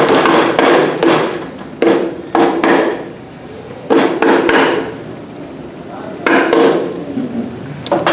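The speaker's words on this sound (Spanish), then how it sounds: "Podemos también ayudarnos de un martillo" A rubber mallet taps a motorcycle clutch assembly into place, giving several clusters of firm, close knocks separated by short pauses, with some faint background sound.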